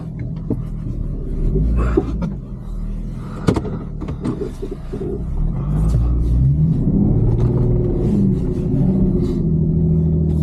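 An off-road vehicle with lockers engaged climbs through deep snow on a Wyoming trail, its engine rumbling and revving steadily and growing louder and more sustained partway through, with occasional knocks and no talking.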